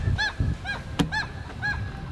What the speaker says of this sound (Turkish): Buradaki en güzel duygulardan bir tanesi de bu asla susmayan martılar.